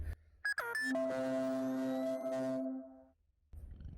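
A mobile phone's musical ringtone sounds during work on a diesel fuel pump, playing a bright tonal melody for about two seconds that is loud and close, then cut off, leaving a short silence before low background noise returns.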